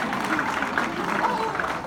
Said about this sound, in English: Please, big applause for this kidnapping.